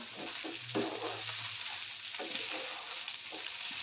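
Onion poha with sugar, lemon juice and salt is stirred in a pan, giving a steady soft scraping and rustling with a few sharper spoon knocks, close and continuous.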